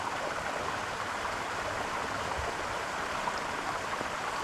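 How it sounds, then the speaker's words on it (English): A waterfall roars close by in a constant, dense wash of falling water, loud and unbroken throughout with no voices over it. "this waterfall is making a lot of noise."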